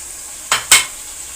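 Two quick scraping stirs as whisked yogurt goes into chicken korma frying in a pan, over a steady sizzle.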